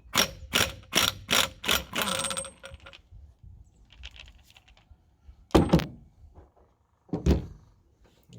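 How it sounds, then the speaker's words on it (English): A ratchet works a 24mm nut off the carrier bearing assembly of a 2003 Nissan Frontier. A loud rapid run of metallic clicks fills the first two seconds, followed by a few sparse clanks and scrapes, with no speech. "there's a 24mm nut on the end of here that we'll go ahead and remove"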